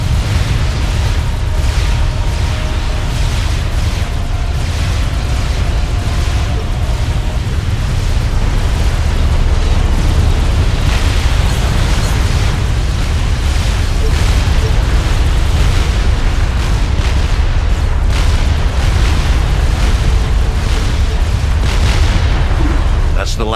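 Heavy booming explosions as artillery positions are destroyed in the real-time strategy game Supreme Commander: Forged Alliance, a dense continuous rumble of blasts and bursts running throughout under steady battle noise, with radio-style voice chatter.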